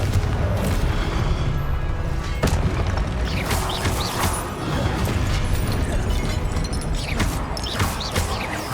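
Confringo blasting spells from Hogwarts Legacy, several booming explosive bursts repeating in quick succession over a continuous layer of game combat noise.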